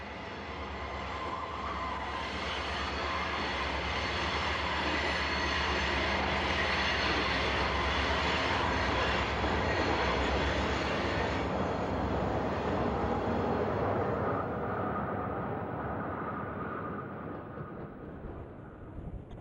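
Southbound train rumbling past Alexandria passenger station, a loud sustained roar of wheels and cars that builds, holds for many seconds, then fades as it moves away, with no voices.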